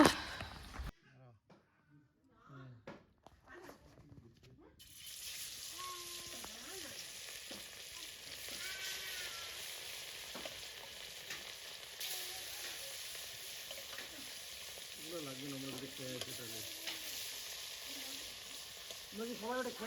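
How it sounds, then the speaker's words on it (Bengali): Steady frying sizzle of fish in a hot wok begins after a few quiet seconds and continues throughout, with people talking faintly in the background. "কড়াই গরম হোক এখানে মাছ ভাজা করবো"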